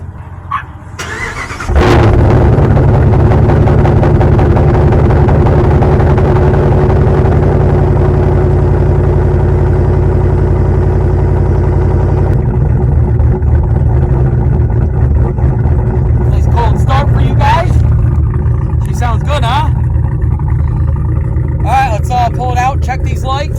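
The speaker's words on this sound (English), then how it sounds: "I got you guys a little cold start." A 2011 Ram Longhorn pickup truck cranks over and fires into a loud cold-start idle, the engine roaring steadily close by for about twenty seconds while people talk over it near the end.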